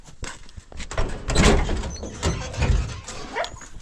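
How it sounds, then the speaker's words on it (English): A hungry dog whimpers and whines in short bursts close by, with some shuffling and knocking noises around it and no talking. "My dog is very hungry."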